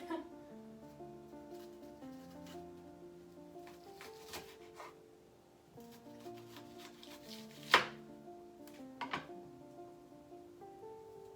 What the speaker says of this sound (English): You want to cut this up nice and fast because the onion juice start coming out